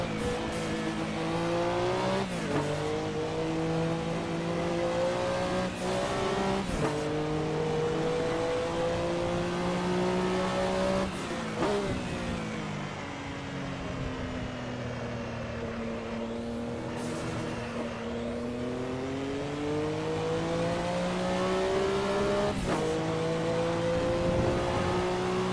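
A Porsche 962 race car lapping in Assetto Corsa, its engine droning loud and steady as it rises through the revs, drops sharply at each gear change or lift, then climbs again across several laps.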